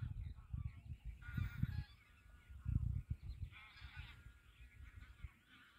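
A flock of geese or ducks honks across a vast wetland, Borsorola beel, with bursts of overlapping calls swelling and fading over low rumbling background noise, fairly near and moderately loud.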